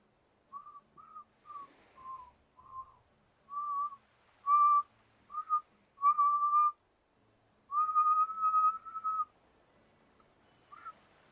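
A person whistling with effort, producing a run of short breathy tones that wobble in pitch, then a few longer held notes, each separated by brief pauses, close and clear in a quiet room.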